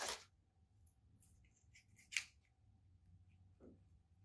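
Scissors snip through material in a quiet room, a few short crisp cuts with a brief pause between them.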